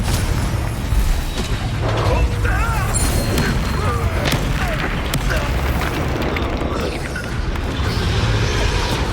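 Spell blasts and booming explosions from combat in Hogwarts Legacy, continuous dense rumbling bursts and crashes over nearly ten seconds, loud and busy with layered impacts.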